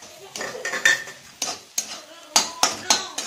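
Khoa (milk solids) is sautéed in a pan for beetroot halwa, with a spoon clattering, scraping and clinking against the metal in a quick, uneven series of near, bright knocks.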